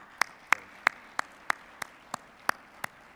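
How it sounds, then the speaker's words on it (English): Conference audience at a breakfast session, with a few sharp, evenly spaced claps ringing out one by one in a steady rhythm, close and fairly quiet in an otherwise still room. "please join me in giving them a round of applause."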